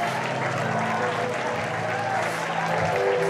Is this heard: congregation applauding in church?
yes